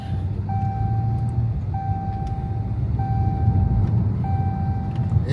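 A car in motion on its first drive, with a low rumbling engine and road noise throughout, while a regular electronic beep repeats about once a second over the top.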